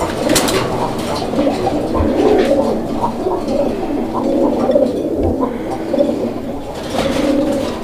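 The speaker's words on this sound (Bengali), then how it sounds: "আপনারা ডাক দেখতে পাচ্ছেন কবুতরের, এই যে দেখেন কীভাবে ডাকে" Raj-golla colouring pigeons coo in repeated low, throaty rolling calls close by, the phrases recurring every second or so with brief gaps, amid light background noise.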